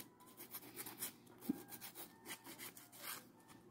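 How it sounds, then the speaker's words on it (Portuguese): Sanding an EVA foam flip-flop keychain by hand: a close, steady back-and-forth rasping scrape with soft rhythmic strokes and one brief sharper tap midway, no voices. "Dou mais uma lixada aqui, olha."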